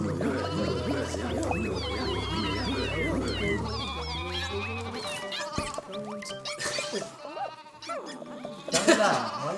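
Sheep bleat in a video game, with many wavering, overlapping cries over a steady low backing tone. The bleats thin out toward the end, where a single louder cry closes the sequence.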